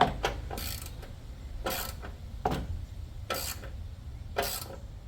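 A ratchet wrench tightens a bolt on a Mazda RX-7 FC headlight, making repeated short bursts of close mechanical clicking spaced about a second apart.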